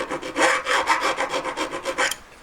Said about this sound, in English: basically filing that back. So I filed that off.